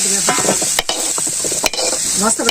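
Potatoes frying in pure mustard oil are stirred briskly in a pan, a loud close sizzle with repeated scraping strokes of a spatula and a couple of sharp knocks, no voices.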